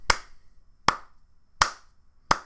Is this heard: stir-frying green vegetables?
no